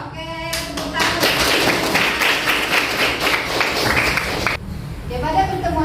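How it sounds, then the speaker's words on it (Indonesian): A school class claps hands together in a classroom, loud close rhythmic clapping with a few voices at the start, then it cuts off and quieter chatter follows. "Oke, tepuk tangan."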